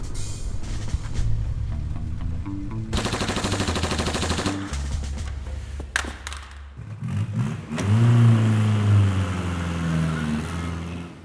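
A car engine revs and drives by amid loud, harsh bursts of noise, the motor rising and falling in pitch over roughly eleven seconds, with a strong roar toward the end.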